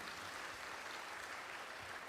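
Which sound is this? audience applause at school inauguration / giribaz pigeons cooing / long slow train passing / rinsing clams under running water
audience applause at school inauguration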